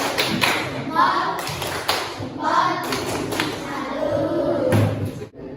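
A classroom group claps rhythmically in short patterned bursts of a 'tepuk salut' clap, close and lively, with children's voices mixed in.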